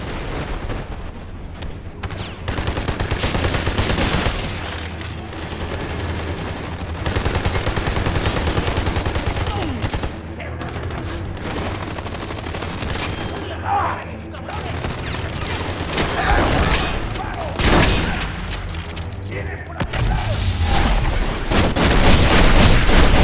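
Enemy gunfire barrage in the Army of Two: The Devil's Cartel video game: dense, continuous bursts of automatic fire and booming impacts fill the whole stretch, loud and close, with a voice talking over the din.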